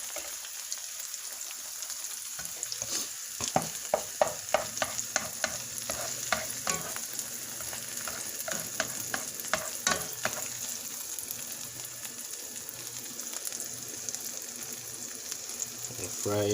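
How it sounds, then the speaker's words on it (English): Eggs and tomatoes frying in a pan for a Jamaican-style breakfast, a continuous sizzle with clustered crackles and utensil scrapes and stirring taps throughout. "Fry egg and tomatoes"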